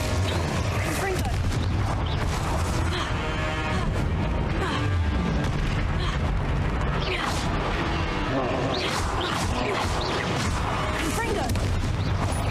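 Confringo fire spell blasts from Hogwarts Legacy, repeated booming crashes and whooshing impacts in a loud, busy fight, with a voice talking over the action.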